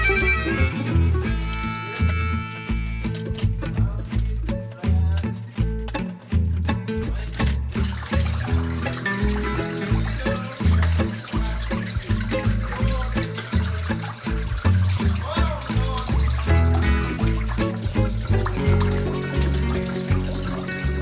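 Water trickles and splashes steadily from a hydroponics tower pump into a 5-gallon reservoir, a continuous close, fairly loud flow with a dense, busy texture throughout.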